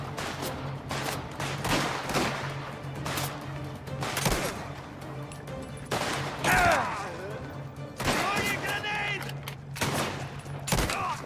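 Gunfire in the Mafia video game, with repeated sharp shots and bursts through the whole stretch, some near and loud and some layered as fusillades, over a steady game hum. A voice speaks briefly among the shots.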